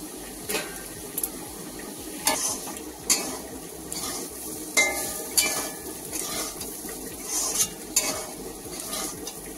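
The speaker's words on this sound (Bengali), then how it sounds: "আলুটা ভাজা হচ্ছে।" Potatoes fry with poppy seeds in a pan for aloo posto, giving a soft sizzle under repeated scraping and stirring strokes, with light utensil clicks arriving at an irregular rhythm.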